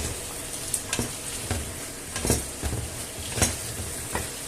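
Bacon, chickpeas and noodles sizzle steadily in a single frying pan while a utensil stirs and pushes them around, adding scattered scrapes and soft knocks over the continuous close frying hiss.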